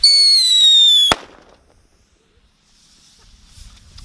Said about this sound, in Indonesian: Dolanan mercon.